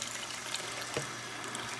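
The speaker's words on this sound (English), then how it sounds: "So now what I'm going to do is to add my water in here." Water runs and splashes into a pan of spicy fried potato leaves, a steady soft stream that carries on alone for a couple of seconds.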